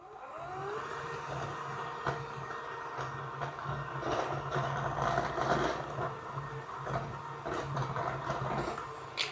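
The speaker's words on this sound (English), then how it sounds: "Just kind of work it into the butter." Powdered sugar is being worked into butter with an electric mixer, a steady close motor whir running throughout with shifting scraping tones as the bowl's contents churn, no voices.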